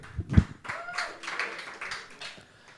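Audience clapping for a comedian being introduced on stage, a brief burst of scattered hand claps that quickly thins into light, fading applause.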